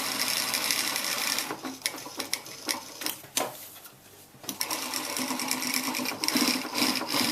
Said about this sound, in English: I just have my little pressure foot running against my first seam.